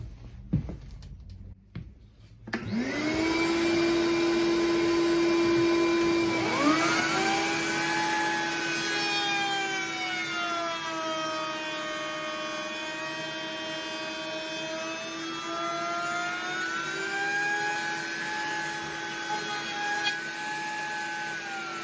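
Table saw spins up loudly and cuts wood on a crosscut sled, a steady high whine with a strong ringing tone that shifts as the blade bites, close and continuous after a brief quiet start.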